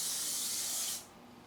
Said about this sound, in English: I'm going to spray vegetable oil on half